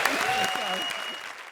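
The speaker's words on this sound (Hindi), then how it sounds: "ज्यादा तालियां बजाओ।" Applause from a comedy show studio audience fills the room and fades gradually, with a voice speaking over the clapping near the start.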